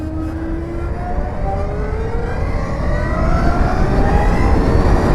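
A Zero SR/S electric motorcycle accelerating hard on a road, its motor whine rising steadily in pitch over rushing wind noise, loud and close.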